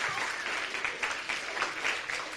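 Studio audience on a Spanish TV magazine show applauds steadily for a couple of seconds, a dense even patter of many hands with faint cheering mixed in.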